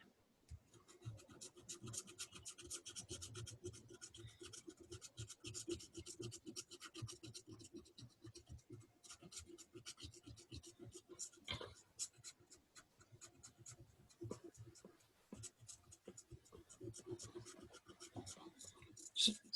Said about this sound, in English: I'm scraping a gift card off